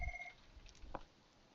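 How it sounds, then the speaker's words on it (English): A telephone rings briefly in a quiet room, a short electronic tone heard once at moderate distance with no talk over it. "my phone's ringing"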